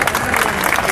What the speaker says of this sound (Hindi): जोरदार तालियों से माननीय महोदय का स्वागत करें